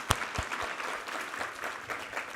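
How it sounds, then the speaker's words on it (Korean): A Sunday church congregation claps for an extended moment, a soft, somewhat distant patter of many hands that stays even for a couple of seconds, with a few sharper claps near the start. "우리 하나님께 감사와 영광의 박수 올려드리겠습니다"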